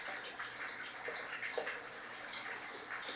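Water lifted by a submersible pump cascades down indoor garden shelving, a soft steady trickling and splashing with light patters, fairly quiet and alone.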